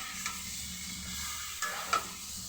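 Taro sizzles softly in a fried spice paste as it is stirred, a steady frying hiss broken by a few sharp scrapes of the spoon against the pan.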